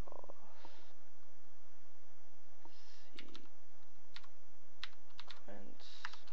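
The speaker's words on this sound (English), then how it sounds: "I'm just gonna type all caps." Keys clatter on a computer keyboard in short irregular bursts of close, crisp clicks while text is entered in all caps, with a steady low hum underneath.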